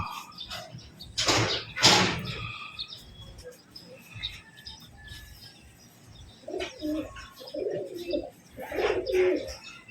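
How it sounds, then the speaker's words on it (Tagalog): Pigeons coo in soft low repeated phrases, with scattered chirps and a couple of louder rustling bursts early on, at moderate distance. "Lalaro pa sa hangin yung mga ibon natin"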